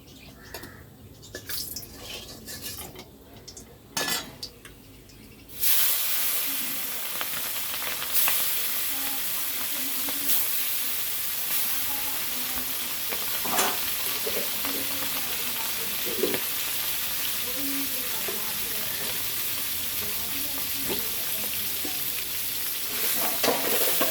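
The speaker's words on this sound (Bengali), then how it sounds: "মাছটা ভাজা হোক" Tangra fish coated in turmeric hit hot oil and settle into a loud, steady sizzle that runs on unbroken after some earlier handling clatter.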